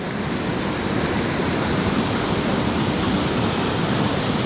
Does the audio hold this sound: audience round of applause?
no